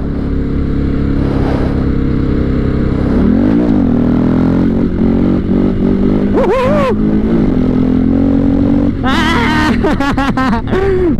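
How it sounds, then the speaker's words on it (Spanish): Honda XR650L motorcycle engine running steadily throughout, with clear revving swells as the rider twists the throttle, close and loud with some clatter, no talking. "Qué delicia de moto."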